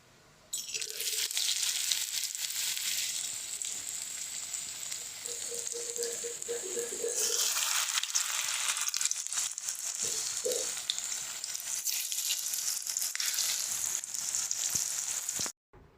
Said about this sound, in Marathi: चला तर आता यांना आपण फ्राय करून घेऊया